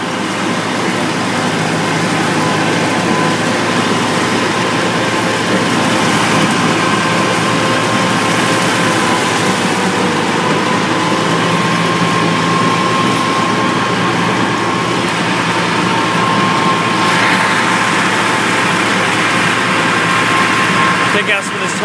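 An IH Farmall Cub tractor with a C3 mower cuts tall grass, its engine a loud, steady, close drone that holds unchanged for over twenty seconds.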